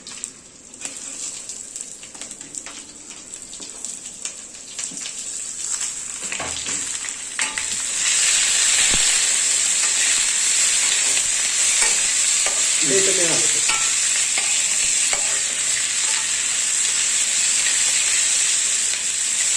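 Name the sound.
onion added to hot oil, frying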